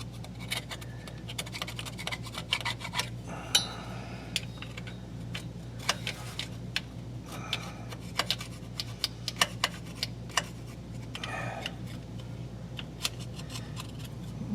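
Old gasket residue is scraped off the sealing surface of a transmission pan from a 2007 Ford Explorer Sport Trac, giving short, dry ticking scrapes in an irregular rhythm, close and fairly quiet over a steady low hum.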